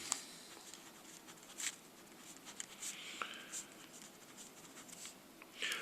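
A pen or pencil scratches out an algebra equation by hand on paper, faint and close, in short irregular strokes with brief pauses and taps.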